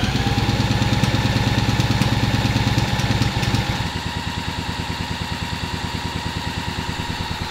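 A small go-kart engine found at a chicken farm chugs loudly at idle with a rapid, uneven knocking pulse, then drops to a lower, steadier putter partway through.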